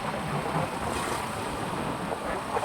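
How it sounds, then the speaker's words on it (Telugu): Surf at Anjuna Beach in Goa rolls in as a continuous broadband wash, close and fairly loud, with gusty wind buffeting the microphone and no voices. "అలలు అయితే ఫుల్ అంటే ఫుల్ వస్తున్నాయి ఫ్రెండ్స్"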